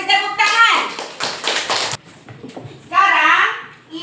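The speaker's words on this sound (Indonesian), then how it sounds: "Kita kasih tepuk tangan." Children clap their hands in a Zoom class session: a short burst of sharp, uneven claps, with a voice speaking before and after.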